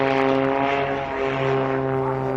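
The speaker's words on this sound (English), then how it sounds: "national aerobatic champion Gerald Cooper in his Cap 232, and he did his very best to reward the audience" A Cap 232 aerobatic plane flies at an air festival, its propeller engine giving a strong, sustained droning buzz that swells and fades slightly.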